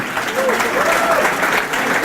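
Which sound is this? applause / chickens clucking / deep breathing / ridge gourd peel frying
applause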